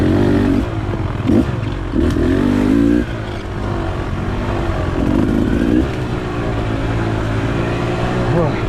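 Steve's 450 dirt bike rumbles while heard from a rider following close behind, its engine droning with throttle surges and revs rising and falling over a rough buzzing base, fairly loud throughout.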